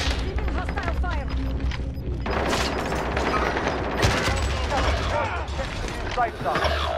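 Sustained gunfire in a military video game, with repeated shots and bursts crackling through a dense, busy battle mix and a heavier thump near the middle, under radio-style game voices.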